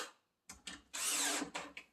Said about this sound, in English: Didn't drill that one deep enough